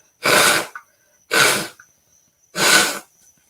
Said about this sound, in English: I'm sorry, I'm blowing my nose